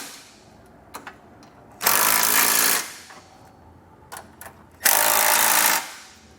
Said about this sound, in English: you can come back with an 11/16 size socket and snug everything down